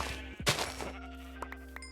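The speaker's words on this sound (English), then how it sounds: "And some more sheep." A sheep in the GregTech New Horizons Minecraft modpack gives a single bleat, loud and close, with faint game sounds around it and no talk.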